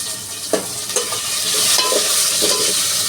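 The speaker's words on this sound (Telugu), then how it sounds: "ఎర్రగడ్డలు అయితే వేసుకొని ఫ్రై అయితే చేసుకుంటున్నాను" Onions fry in a pan with a loud, continuous close sizzle, broken by a few soft stirring scrapes, with no voices.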